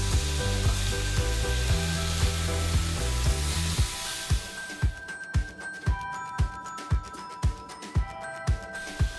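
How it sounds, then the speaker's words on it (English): Finely chopped tomato added to a pan of sizzling ginger, garlic and onion for aloo gobhi sabzi: a loud, steady sizzle gives way to about ten rhythmic scraping stirs. "I am adding 1 big tomato, very finely chopped. Mix this all well."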